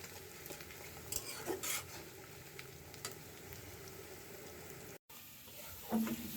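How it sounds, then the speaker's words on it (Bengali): Shrimp coated in turmeric and salt frying in a wok, a steady low sizzle with scattered stirring scrapes and clinks, one brief cut to silence near the end before the frying resumes. "এখন আমি ওই একই কড়াইতে চিংড়ি মাছটা ভেজে নিচ্ছি, একটু হলুদ আর একটু লবণ দিয়ে।"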